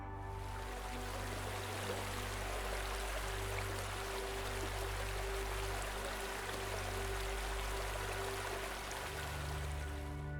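Clear spring water flows through limestone rock formations in Kosovo, a steady close rushing and trickling that stays even for about ten seconds with no voices.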